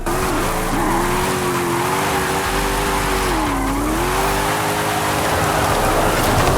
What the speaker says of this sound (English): That engine just sounds so beautiful.